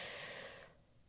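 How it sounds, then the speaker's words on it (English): A single slow, airy inhale drawn through the nose, close and soft, fading out after about half a second with no talking. "let's take one slow breath together. Inhale."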